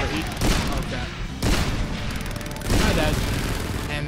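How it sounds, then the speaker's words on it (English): Gunfire in the war shooter Frontlines: Fuel of War, loud dense bursts of shots in waves, close and heavy, with voices mixed in. "What are you shooting at?"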